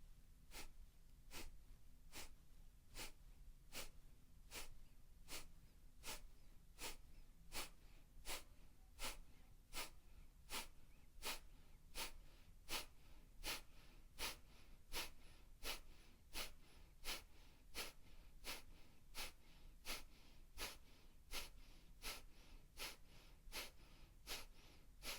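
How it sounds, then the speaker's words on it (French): Kapalabhati, the yoga breath of fire: a steady series of sharp, forceful nasal exhalations, about one a second, close and even, with no talk over it. "Pratiquons ensemble un cycle de 40 respirations du feu."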